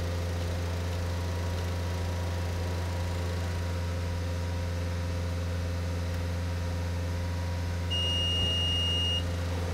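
A car engine runs steadily at about 2500 rpm during a particulate filter cleaning rinse cycle, a continuous mechanical drone, with a high electronic beep tone appearing near the end.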